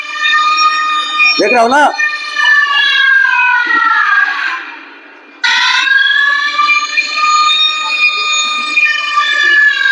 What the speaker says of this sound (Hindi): बस हर 2-2 मिनट पे ऐसे सायरन बजेगा